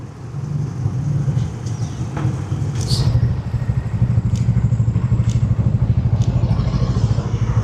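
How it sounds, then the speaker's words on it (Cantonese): A motorcycle idles on a city street, its steady low engine throb close and continuous, with faint passing traffic and a few brief clatters over the top. "睇翻下正話嗰架摩托車"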